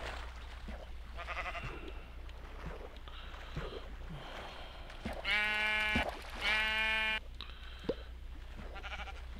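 Sheep bleating in Minecraft, two strong harmonic bleats in quick succession mid-clip, loud and close, over a steady low background hum with scattered faint game noises.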